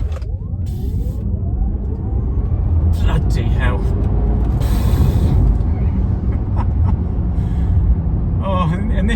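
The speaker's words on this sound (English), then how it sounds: "let's have a go at launching the car" Porsche Taycan electric car launching hard from standstill on a drizzly, slightly greasy road, a rising electric motor whine swelling over loud cabin and road roar, with a gasp and voices inside the car.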